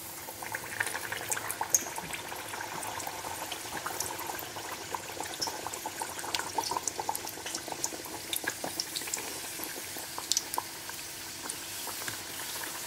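Goan banana buns of dough fry in hot oil over a medium flame, with a steady, fairly faint bubbling sizzle and scattered small crackles and pops, without talk.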